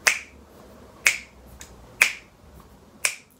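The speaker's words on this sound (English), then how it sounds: "finger snaps, like that." Four crisp finger snaps, evenly spaced about a second apart, close and dry with nothing else behind them.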